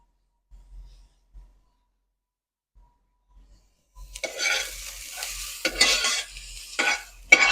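Onions nearly caramelized sizzle in a pan while being stirred, a few faint scrapes first, then a close burst of frying hiss with intermittent stirring strokes.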